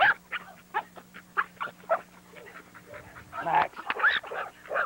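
A well-built young working dog named Max, expected to reach 85 to 90 pounds, whimpers and pants in short bursts close by, with someone speaking briefly amid the yard noise.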